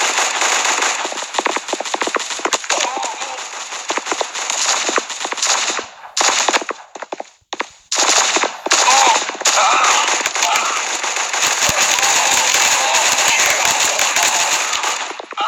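Rapid bursts of gunfire from the mobile shooter game Guns of Boom, loud and dense, with automatic rattles and sharp single shots, brief gaps around the middle, and a voice faintly present at times.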